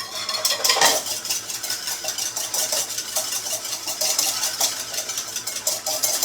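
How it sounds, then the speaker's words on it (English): A whisk beats quickly and steadily against a bowl, mixing extra virgin organic olive oil into a dressing for a raw Brussels sprout salad. The rapid, even scraping and clinking runs close and continuous throughout. "whisk this"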